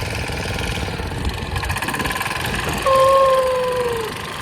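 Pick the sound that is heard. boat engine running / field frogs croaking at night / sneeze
boat engine running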